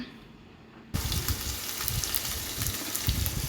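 Spice paste of onion, turmeric, salt, ginger, garlic and green chilli hits hot soybean oil in a pan, a sudden loud hiss and sputter after a quiet moment, then steady crackling frying throughout.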